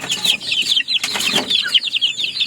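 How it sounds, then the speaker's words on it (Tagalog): Backyard flock of chickens with several roosters gathered at water, giving steady overlapping clucks and soft chirrups, close and continuous, with some wing rustling and no talk. "Medyo madami ang tandang nito."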